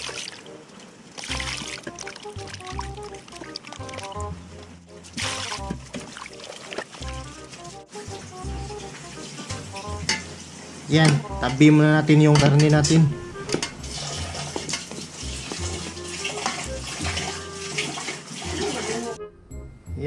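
Pork spare ribs are washed in water in a home kitchen, with splashing, dishes and utensils clattering in a basin throughout, plus running water, under a cook talking.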